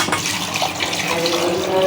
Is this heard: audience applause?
no